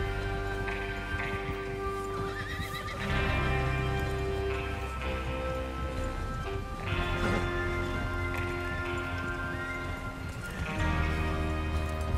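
Horses in the Red Dead Redemption 2 video game, with steady hoofbeats and occasional whinnies blended into a dense, continuous music-and-ambience bed, moderately loud throughout.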